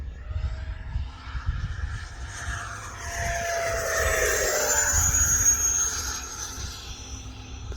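An E-flite F-16 Viper 80mm EDF radio-control jet makes a steady ducted-fan whine and rush as it flies high-speed passes, swelling louder in the middle and staying fairly distant throughout.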